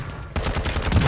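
Rapid automatic gunfire in the shooter Warzone 2, a burst of closely spaced loud shots starting a third of the way in and continuing steadily to the end after a brief quieter lead-in.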